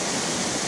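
Waterfall heard as a steady, even rush of falling water, loud and close, with no other sounds.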